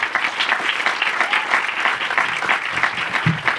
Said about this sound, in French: Faites du bruit pour Anto, s'il vous plaît